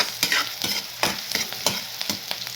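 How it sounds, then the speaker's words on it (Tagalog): Garlic and onion browning in a pan while making a vegetable dish, a steady close hiss of frying punctuated by regular scraping strokes of a spatula stirring, with no voices. "So, babrown lang po natin yung bawang at saka sibuyas."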